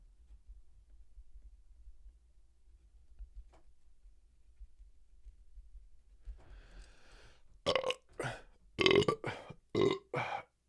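A man lets out a run of loud, close burps after several seconds of near silence, a drawn-out belch followed by choppy bursts in quick succession.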